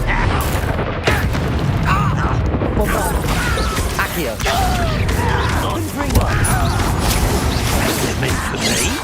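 A Confringo blasting spell goes off in Hogwarts Legacy, heard as several loud booming bursts and crashes within dense, continuous game combat noise, with a voice speaking over the action.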